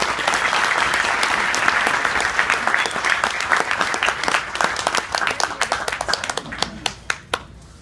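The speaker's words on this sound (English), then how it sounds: "Please give another round of applause for Nabila." Audience applause at the AMP Annual Dinner 2014 honoring Nabila Mango: dense, steady clapping from a roomful of people, loud and sustained, thinning into scattered individual claps as it dies away at the end.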